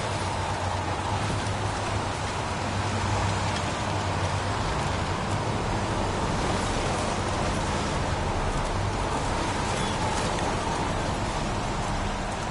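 Steady rain falls in a video game, a dense continuous hiss of drops with a low rumble beneath, unchanging and constant throughout.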